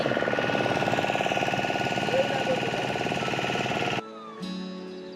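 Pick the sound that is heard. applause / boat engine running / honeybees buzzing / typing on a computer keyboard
boat engine running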